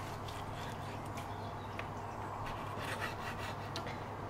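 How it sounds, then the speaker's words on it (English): Knife slicing raw chicken against the grain for stir fry, soft repeated rasping and scraping strokes with faint clicks against a board, quiet and close, with no talking. "Cut it, so we're cutting it this way."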